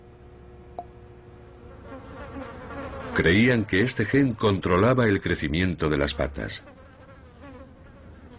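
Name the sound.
flies buzzing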